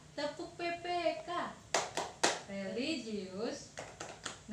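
A second-grade class performs the Tepuk PPK clap chant, sharp hand claps landing in quick rhythmic bursts between children's voices chanting along, close and lively.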